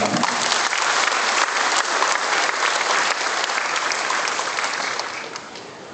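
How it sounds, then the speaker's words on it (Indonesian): Audience applause at a signing ceremony for a low-interest loan launch in Kudus, a steady dense wash of clapping from a seated crowd lasting several seconds and tapering slightly toward the end, with no talk over it. "Bapak Ibu boleh tepuk tangan untuk penandatanganan pertama."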